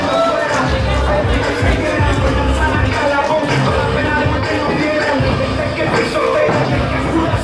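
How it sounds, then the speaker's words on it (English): A wrestling arena crowd at CPW Clash in the Coliseum 2024 roars steadily for an entrance, with loud continuous cheering, yells and babble. "the crowd is going wild for Sunset Steve Garcia"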